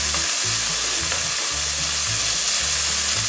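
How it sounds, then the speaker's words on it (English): Bacon and onions fry in a Dutch oven with a steady, dense sizzle and crackle, punctuated by low rhythmic scraping as the pan is stirred, close and continuous with no talk. "our goal here with this is to brown this bacon"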